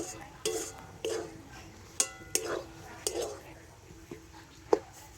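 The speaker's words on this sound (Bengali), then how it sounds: "আর এভাবে একটু ভালো করে নাড়াচাড়া করে মিশিয়ে নিয়ে একটা ডো তৈরি করে নেব" Rice dough is stirred and worked in a pan over a low flame, with a spoon knocking and scraping against the metal in sharp, irregular clinks that stand out over a quiet background.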